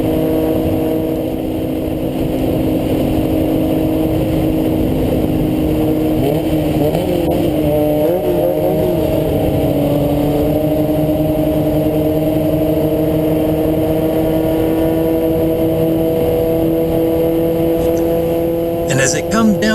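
Formula Ford race cars, among them a 1978 Zinc C10, drone steadily around the last corner at Summit Point Motorsports Park toward the green flag, engines sustained and layered beneath continuous commentary.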